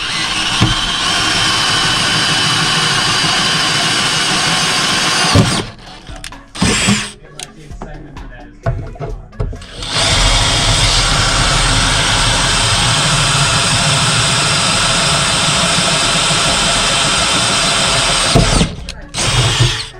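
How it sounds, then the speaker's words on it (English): A drill press bores out seat brackets for a Toyota Yaris race car, a loud, steady whirring grind that stops for a few seconds of clattering handling, then resumes at full volume. "I put it on the drill press and drilled it out."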